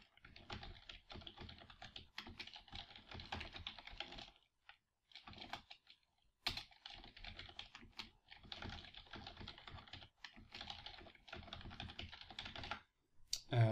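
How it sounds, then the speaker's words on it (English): Code being typed on a computer keyboard in Android Studio, with bursts of quick, close key clatter broken by short pauses and a louder clack near the end. "So the next thing we'll do is type this."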